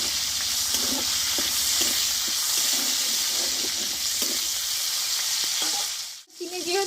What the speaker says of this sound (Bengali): এখানে বড়ো সাইজের টমেটো দিয়ে দেবো টমেটোটা একটু ভালো করে কষে নেব আমি